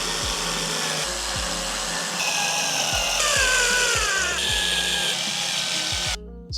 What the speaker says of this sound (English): Now we just got to drill the rest in.